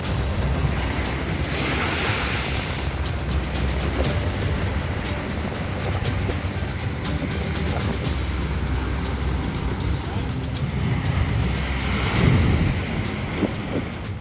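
Rough sea surf rolls and crashes steadily on the Ernakulam coast at Chellanam during a sea surge, while strong wind buffets the microphone throughout, with no speech.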